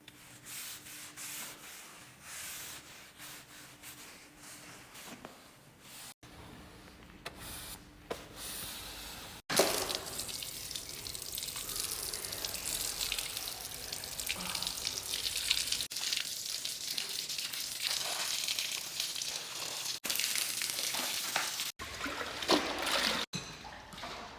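Water drains from a swimming pool being emptied for repair work, giving a steady rushing, trickling wash that is broken by several abrupt cuts and grows louder partway through.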